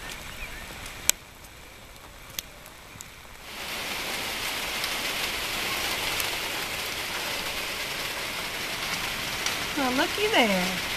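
Steady rain falls outdoors during morning farm chores around sheep, goats and ducks, a constant broadband hiss that starts after a quieter opening with a few sharp taps. A short burst of animal-like calls rises near the end.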